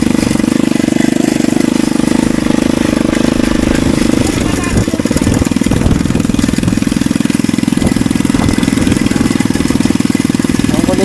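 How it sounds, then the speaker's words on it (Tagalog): A motorized tricycle engine running close by, with a loud steady rattling drone that keeps its level with only a brief dip partway through, while people talk over it. "Ano yan, motor ng ano yan, tricycle?"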